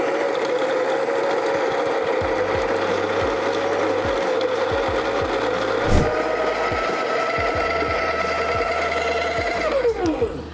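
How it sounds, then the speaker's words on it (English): An Encore ESP burr coffee grinder grinds coffee beans straight into a dosing cup, a steady close motor whir with rattling, clicking grit running continuously for about ten seconds before winding down at the end. "I'm just going to grind it now right into my dosing cup"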